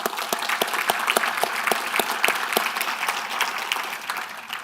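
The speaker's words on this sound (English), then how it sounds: "if we could just give a round of applause to Ben and the whole Network Center group" A conference audience claps at the nVision 2019 information security event, a steady round of dozens of distinct, fairly close hand claps that continues throughout without speech.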